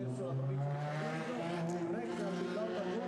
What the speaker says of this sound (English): engine notes ringing out as we get to the Lamborghini Cup podium